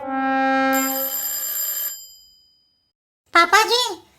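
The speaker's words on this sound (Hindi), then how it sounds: "चीफ मिनिस्टर का फोन।" A telephone rings with a bright, sustained electronic tone lasting about two seconds and then fading, followed after a short silence by a voice speaking.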